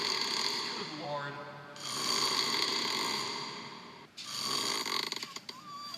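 A man with sleep apnea snoring, loud rasping inhalations broken by a pause and then a choking snort, close by in a quiet room.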